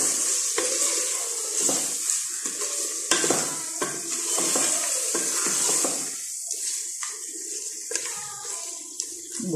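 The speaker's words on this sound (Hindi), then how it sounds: "अब मैं इन्हें तकरीबन 5 मिनट भूनूंगी ताकि टमाटर थोड़े गल जाएं" Tomatoes fry and sizzle in a pan for a mutton karahi while a spoon stirs them in steady scrapes, a loud, continuous hiss with repeated clatters, close and without talk.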